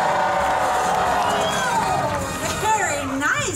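A theme park audience cheers and whoops for Dusty, a brown shaggy dog in an animal actors show, with crowd noise rising and falling and loud voices calling out over it.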